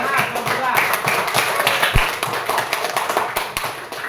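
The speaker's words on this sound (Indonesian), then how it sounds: "Beri tepuk tangan untuk kelompok 3" Classroom group claps for a student team during an academic supervision session, a moderate patter of hand claps with a few sharper knocks and some voices underneath, fairly near and steady.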